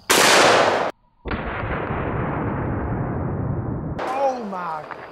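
A Taurus Raging Hunter .44 Magnum revolver fires into shaving cream, one sharp, loud blast followed by a brief gap, then a long rumbling echo and a voice reacting at the end.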